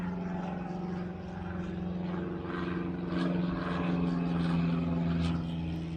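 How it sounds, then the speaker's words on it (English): A small propeller airplane passes overhead near an airport, a steady droning engine hum with harmonic buzz that swells slightly toward the middle and holds at moderate loudness, no voices over it. "That lovely little airplane."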